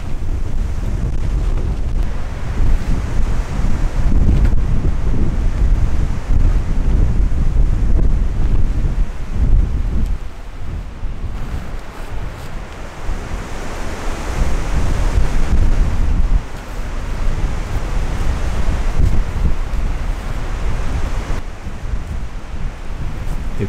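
Strong wind roars through a forest around a windy bivouac campsite, a loud, continuous rushing that swells and eases in gusts, with no one speaking.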